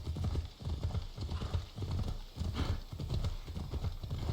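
A horse's hooves clip-clop in a quick, steady trotting rhythm in Assassin's Creed Odyssey, close and moderately loud over soft game ambience.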